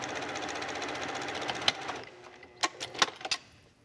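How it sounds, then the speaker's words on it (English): Sewing machine stitching a garment seam, a quiet rapid whirring run for about two seconds, followed by a few soft clicks and taps as it stops, close and faint. "So I'm just going to sew a seam here, as if I was sewing my garment."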